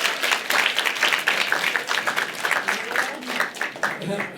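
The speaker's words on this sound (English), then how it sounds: "let's give Malcolm a round of applause" Library audience clapping for a young participant, a brief burst of applause from a modest crowd with uneven claps and some voices mixed in.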